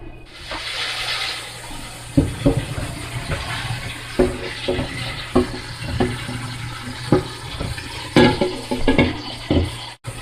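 Water gushes and splashes steadily as a pot of cooked pasta shells drains into a sink, with occasional clanks of metal against the basin.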